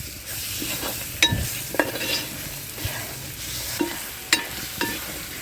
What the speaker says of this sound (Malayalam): അപ്പോൾ നമ്മുടെ ഈ സബോളേനെ നമ്മളതിൻ്റെ കൂടെ ഇട്ടിട്ട് ഇളക്കുന്നുണ്ട് കേട്ടോ